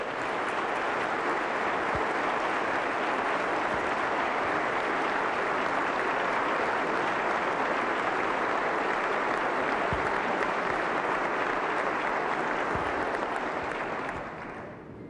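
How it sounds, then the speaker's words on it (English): Sustained audience applause fills a hall during a governor's State of the State address, dense, loud clapping that holds steady for about fourteen seconds before tapering off at the end. "if you could please give him a great round of applause"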